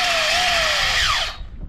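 Electric motor of a JJRC Q117 RC car on 3S power after a crash, whining loud and close with a high revving tone that wavers, then drops away abruptly near the end.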